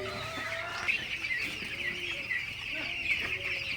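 Broiler chicks cluck and chirp repeatedly close by, a busy overlapping chatter of several birds against a steady background hum.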